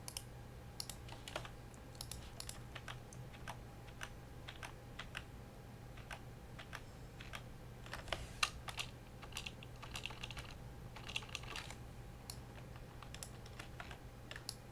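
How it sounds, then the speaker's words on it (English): Cards from a Lord of the Rings card game encounter deck are shuffled and discarded one after another, producing faint, rapid clicks and soft snaps over a low steady hum. "Shuffle the encounter deck and discard until I find 2 locations."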